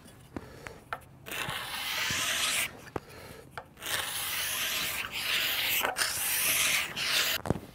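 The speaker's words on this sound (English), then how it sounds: "I'm just gonna keep track of the number of scrapes and make the same number of scrapes on either side." A hickory self bow limb being scraped with repeated long rasping strokes, close and fairly loud, separated by short pauses, with no talk.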